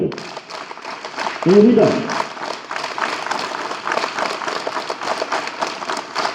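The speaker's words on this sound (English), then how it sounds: "Clap together." Many school students clapping at a morning assembly, heard as a loose, distant patter of applause in the background while an adult voice speaks over it.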